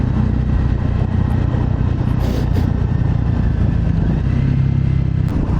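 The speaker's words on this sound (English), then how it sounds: "Oh, the engine is refined. It's a single cylinder." A single-cylinder scrambler motorcycle engine drones steadily at high revs, a continuous loud buzz heard while riding, with no talk over it.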